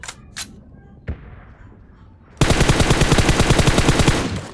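Gunfire in the Free Fire video game: a few faint clicks and thumps, then a loud, sustained rapid burst of automatic fire that runs to the end with a tight, even rhythm.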